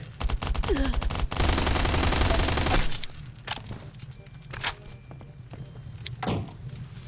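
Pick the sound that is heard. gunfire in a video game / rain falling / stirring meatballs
gunfire in a video game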